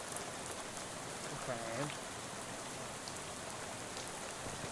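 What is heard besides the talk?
rain falling in the video game Shadows Over Loathing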